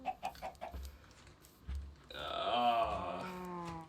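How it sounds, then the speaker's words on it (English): A chicken in a video game with a differently colored look, giving a series of short clucks and then a longer drawn-out squawking call, moderately loud and alone. "So this is new, like different colored chicken."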